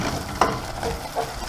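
Soy sauce being stirred into Indomie noodles in a pan, a brief soft sizzle with a single utensil clack and a faint scrape, no talking.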